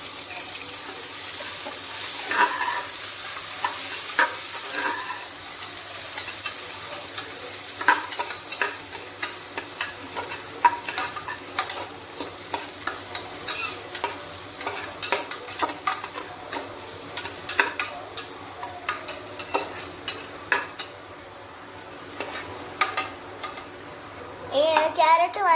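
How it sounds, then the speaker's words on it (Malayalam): Carrots sautéing in a pan for fish biryani, a soft steady sizzle broken by frequent scrapes and clinks of stirring, close by and fairly quiet throughout. "ഫസ്റ്റ് നമുക്ക് ക്യാരറ്റ് ഇട്ട് കൊടുക്കാം. അതൊന്ന് വഴറ്റി വരുമ്പോൾ നമുക്ക് ഒണിയൻ ഇട്ട് കൊടുക്കാം."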